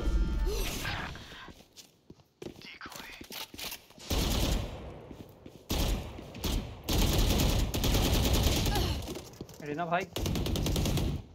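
Rapid automatic gunfire and scattered shots ring out in a Valorant match on the Bind map, loud bursts broken by short pauses, while players talk over the action.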